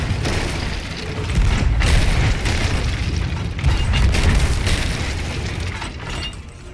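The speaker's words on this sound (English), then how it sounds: "his cannons have so much fucking power" Heavy ship cannons firing in a Sea of Thieves pirate battle, a continuous barrage of deep, loud booms rolling into one another across the whole stretch with no voices over them.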